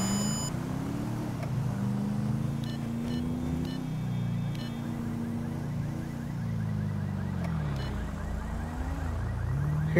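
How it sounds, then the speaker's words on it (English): A car alarm in Grand Theft Auto V wails in a repeating, pitch-sweeping pattern, fairly distant and moderate in volume, over a low rumbling engine background. "Hear a car alarm."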